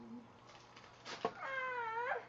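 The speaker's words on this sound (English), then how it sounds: "what kind of cat are you?" A cat meows once, a clear drawn-out rising-and-falling call near the end, after a quieter stretch with faint background sounds; close and moderately loud.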